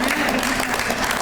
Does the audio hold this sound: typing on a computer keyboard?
no